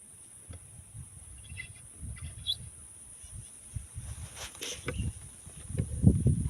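A kekep babi calls near a nest, with short faint chirps and tweets scattered over a quiet outdoor background with soft low rustling.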